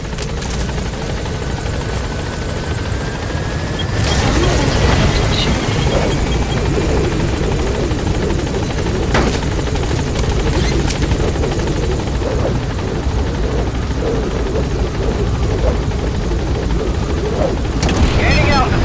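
Military helicopter in Metal Gear Solid V: The Phantom Pain lifting off and gaining altitude from a landing zone, a loud steady rotor roar swelling after a few seconds and holding throughout, with game voices talking over it.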